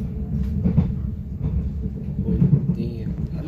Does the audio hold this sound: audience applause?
no